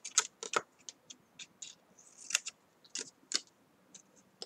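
Scissors snip paper at a slight angle for an advent calendar, a close, quiet series of crisp irregular clicks and short cuts with small pauses between them.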